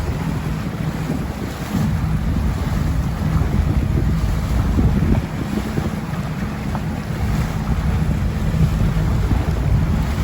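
A tour boat moves across the water off Marmaris, giving a steady low rumble mixed with wind buffeting the microphone and the wash of waves, continuous and fairly loud throughout.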